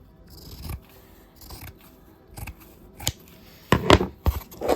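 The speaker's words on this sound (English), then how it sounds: "with the scissors, I can just trim off that edge and that corner." Scissors trim the edge and a corner off woven fabric on a small pin-and-card loom. Several crisp snips come close up, spaced irregularly and growing louder and quicker toward the end, alone without talk.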